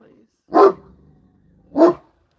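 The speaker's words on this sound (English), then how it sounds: "I don't know if you guys can hear me over her barking" A dog barks indoors, two loud, separate barks about a second apart with quiet between them.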